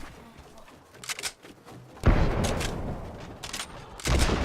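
Gunfire in an online shooter video game, a few sharp bursts and single shots at moderate loudness, some rapid clusters, with quieter game ambience between.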